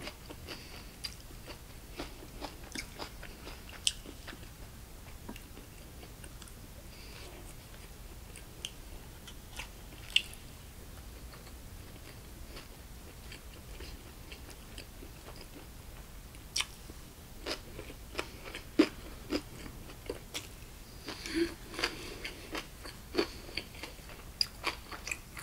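Chewing and biting of a Nolbu bossam pork set, steady quiet close-up mouth sounds with scattered sharper crunchy bites and no talking.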